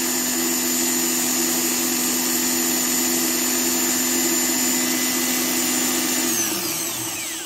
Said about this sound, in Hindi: ये देखिए मोटर चल रहा है और बहुत ही स्मूथ बहुत ही अच्छे से ये रन कर रहा है